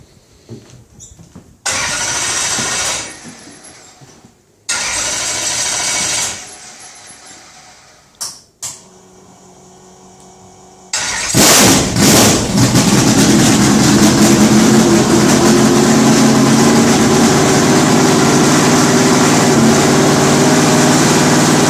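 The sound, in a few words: 1957 Corvette race car engine starting and idling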